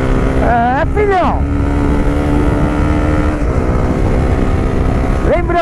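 Honda CBR 250 R motorcycle fitted with an Akrapovic exhaust tip, its engine running loud and close throughout, while a voice speaks over it in short bursts.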